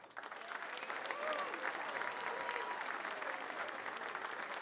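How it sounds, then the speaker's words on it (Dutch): Sustained applause from an event audience for the two hosts in a hall, dense and even, heard at a moderate distance with faint crowd murmur underneath. "een heel groot applaus voor deze twee kanjers die het vanavond aan elkaar gekletst hebben"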